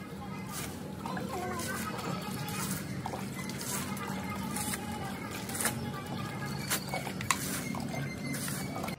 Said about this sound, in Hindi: थोड़ा थोड़ा पानी डालते हैं इसके ऊपर